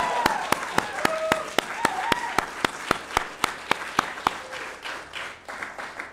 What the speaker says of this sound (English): What about a big round of applause?